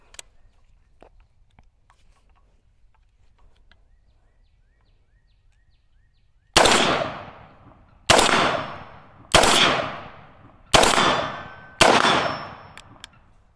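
AR-15 rifle from Radical Firearms firing five sharp shots outdoors, loud cracks spaced about a second or so apart with ringing decay after each, following a quiet stretch of faint handling noises.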